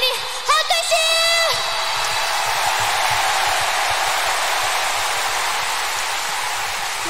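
Applause and cheering roar from a large concert crowd in the Tokyo Dome, a dense sustained wash of clapping after a few high whoops rise over it at the start.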